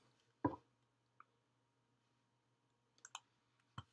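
Computer mouse clicks during software setup: one firmer click followed by a few faint, sparse clicks, with a quick pair and then a final click near the end, all close and isolated in an otherwise quiet room.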